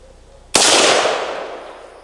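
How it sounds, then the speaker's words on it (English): A single sharp rifle shot from a Core Logistics AR-15 at an outdoor range, a loud close crack followed by a long fading echo with no voices. "Time to roll the AR-15 by Core Logistics."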